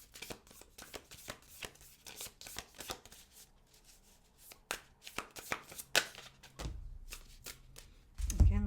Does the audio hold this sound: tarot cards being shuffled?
yes